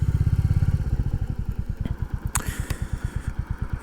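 Royal Enfield Classic 350 motorcycle riding along a village main road, its single-cylinder thump steady and close throughout, with a brief clatter partway through.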